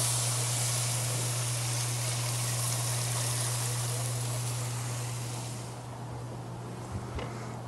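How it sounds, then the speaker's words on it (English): Water runs into a smoker's drip pan during a St. Louis style rib cook outdoors at night, a steady close splashing pour that eases off toward the end. "Let me add some water."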